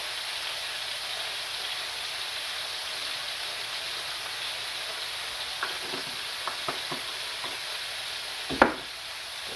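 Pork simmering in a pan with a little water, giving a soft, even hiss of bubbling and sizzling that runs throughout, with a few light clicks and one sharper knock near the end.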